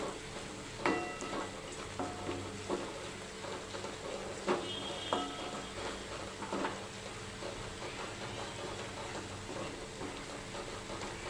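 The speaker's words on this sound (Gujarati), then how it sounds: "મસાલાને બરાબર સાતળી લઈશું" Spices for Kathiawadi sev tomato sabji with red chilli powder, turmeric and coriander-cumin powder sautéing in a pan, a soft steady sizzle broken by light scraping and stirring clinks, fairly quiet throughout.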